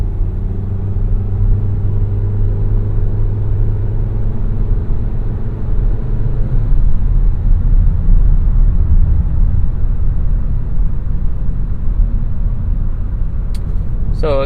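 A 2022 Volkswagen Taos with a 1.5 liter turbocharged 4-cylinder engine accelerates from inside the cabin, a loud steady low rumble of engine and road noise that rises in pitch partway through, with a voice talking over it.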